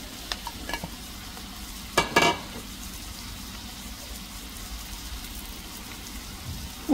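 Mushrooms frying in a pan for a Romanian chicken-and-mushroom ciulama, a soft steady sizzle with a louder burst of stirring and scraping around two seconds, then continuing quietly.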